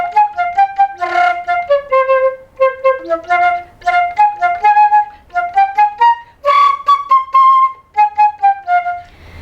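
Solo flute playing the first two lines of a tune, a quick stream of short tongued notes in rhythmic bursts with brief breathy accents, close and clear with no talk.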